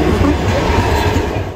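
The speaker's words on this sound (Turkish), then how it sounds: "Tren geçti oğlum" A train in the Garry's Mod video game rumbles past with a dense, continuous clattering roar that holds steady and close, then eases slightly at the end.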